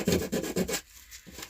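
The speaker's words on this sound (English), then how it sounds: "So let's lightly sand these off real quick." Filler repair spots being lightly sanded by hand produce a few quick, close rubbing strokes in a steady rhythm, then a brief pause and one fainter stroke.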